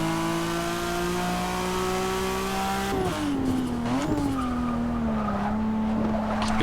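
A car takes a corner at speed, a steady engine hum breaking into a sharp shift and surging revs, with tire scrub and skidding noise, loud and close with no talking.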